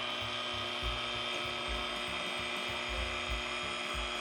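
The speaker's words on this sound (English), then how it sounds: "you want to lower your speed on your mixer. I have it on low." An electric mixer runs on low speed, whipping eggs in a bowl for custard French toast, giving a steady close mechanical whir with a rhythmic low chugging pulse and no talk.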